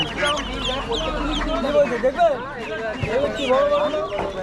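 Chickens cluck at a busy rural bird and livestock market in Birnagar, their calls mixed into constant crowd noise and close conversation between buyers and sellers.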